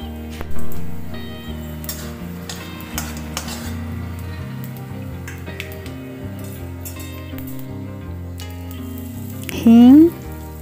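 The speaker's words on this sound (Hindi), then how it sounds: "इसमें मैं ऐड कर रही हूँ जीरा, तेजपत्ता और काली मिर्च।" Cumin, bay leaf and black pepper sizzle and fry in hot oil in a kadhai, a steady crackle under repeated clinks and scrapes of a metal spoon, with a louder clatter near the start and end.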